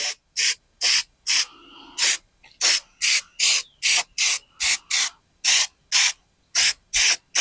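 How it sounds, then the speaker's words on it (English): Cold galvanizing spray paint hisses in about fourteen short, sharp bursts onto a rusty Nissan Frontier frame, each a second or less, separated by brief quiet gaps with faint rattling. "I ended up spraying most of it with the cold galv."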